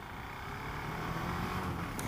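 A KTM single-cylinder LC4 motorcycle engine holds a steady, low idle-to-light-throttle hum while the bike makes a tight U-turn, with continuous drone and no voices.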